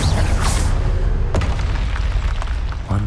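A Bombarda spell explosion in Hogwarts Legacy erupts as one loud, close boom at the start, then rumbles on with debris and battle noise, and a voice breaks in near the end.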